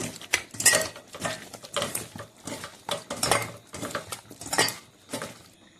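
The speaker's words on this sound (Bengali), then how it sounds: "এবারে মাংসতে দেব পরিমাণ মতো লবণ, পরিমাণ মতো হলুদ দিয়ে একটু মাখিয়ে নেব" Meat being mixed by hand with salt and turmeric in a bowl, heard as a run of wet, clattering squelches and knocks against the bowl in an irregular rhythm, close and fairly loud with no talk.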